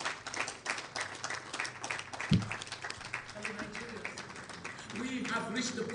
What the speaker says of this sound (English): A lot of applause for her.